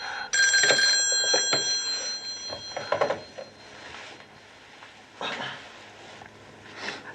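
A telephone bell ringing loudly in a short burst, followed by quieter clicks and scattered knocking sounds in an otherwise hushed room.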